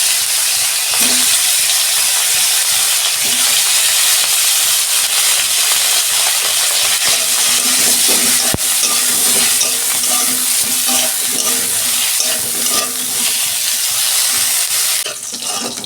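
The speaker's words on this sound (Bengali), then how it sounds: "ওই তেলে আমি কপিগুলো ভেজে নিচ্ছি।" Cauliflower pieces frying in hot oil in a home kitchen, a loud, steady, dense sizzle running throughout with occasional crackles and stirring clinks.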